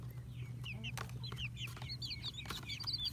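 Chickens in a coop cluck and chirp softly, several short high calls scattered close together over a low steady hum, with a brief faint rustle in between.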